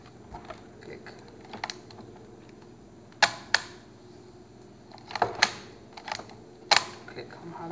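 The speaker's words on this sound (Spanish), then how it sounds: "El obturador funciona bien." A Polaroid Land 230 instant camera's shutter clicks several times, with sharp close mechanical snaps spread irregularly across the clip, some in quick pairs, over a quiet room.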